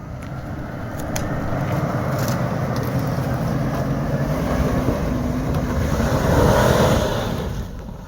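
A Lexus LX470 Land Cruiser 100 Series engine labors during an off-road hill climb, a steady broad rumble heard from a distance and mixed with strong wind buffeting on the microphone.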